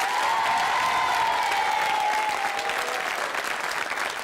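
A television studio audience applauds a winner on a 1978 British pop music quiz show, a loud, sustained burst of clapping with a thin tonal line running through it, gradually easing toward the end.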